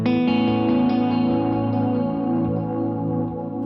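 A guitar played through a pedalboard echo effect rings out as a sustained chord whose repeats slowly fade, loud and alone, with no talking.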